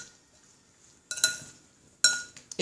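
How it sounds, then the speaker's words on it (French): Spoon stirring fruit salad in a bowl with a little sugar, giving two short bursts of clinking and scraping against the bowl, close and fairly clear, with quiet pauses between them. "Et on remue."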